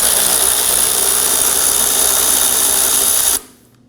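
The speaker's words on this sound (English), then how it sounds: "Now go ahead and take the nut out." A power tool whirs loudly and steadily while spinning off a sway bar link nut on a 2011–2016 Kia Optima's front suspension, then cuts off abruptly near the end.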